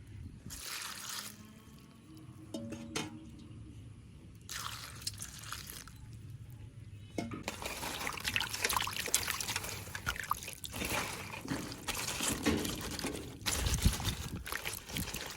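Chopped onion flowers are washed by hand in water in a Jaffna village kitchen: soft trickling and pouring, then busier splashing and sloshing in irregular bursts, quiet and close.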